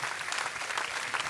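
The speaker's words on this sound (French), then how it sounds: "j'aimerais qu'on applaudisse Stéphanie de Haute Pâtisserie et Céline Incroyable." An audience applauds the cake designers at a live pastry event: a steady patter of many hands clapping at moderate level, brief and unbroken, without talk.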